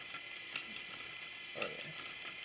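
A medium motor drives the gears behind a height-adjustable suspension build, giving a faint, fast mechanical ratcheting whir with small clicks and a brief pitch sweep partway through, no voices.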